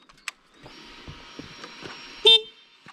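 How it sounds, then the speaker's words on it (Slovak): A car horn being tested sounds briefly, a short toot near the end over a quiet electrical whine and small clicks. "Trúba ide."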